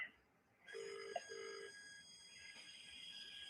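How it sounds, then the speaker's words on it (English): A telephone rings with a bright electronic tone, repeating in short pulses over a quiet room, fairly faint and close, with no talking over it. "Can you hear phone call ringing?"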